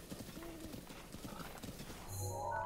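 Horse hooves clip-clopping in The Legend of Zelda: Breath of the Wild, a steady trotting rhythm at low volume, joined near the end by game sound effects.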